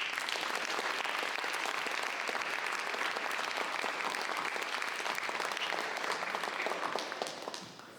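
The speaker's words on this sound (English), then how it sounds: "give a big round of applause for all of these students and all the hard work" An audience at a We The People 8th Congressional District 2023 event applauds students with sustained, dense clapping that holds steady and then tapers off at the end.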